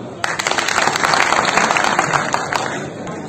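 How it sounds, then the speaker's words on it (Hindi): Applause from a gathering of village heads at a district magistrate's office protest, a dense burst of many hands clapping that rises quickly, holds loudly for a few seconds and then thins out. "आप अपने लिए कम से कम एक बार ताली बजाएं"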